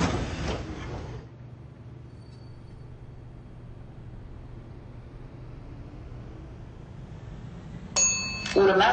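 Doors on a Bucharest metro train in a Roblox game slide shut with a loud, whooshing close at the start, followed by a long steady low hum and then a chime near the end.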